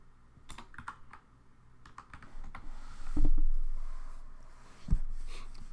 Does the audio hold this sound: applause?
no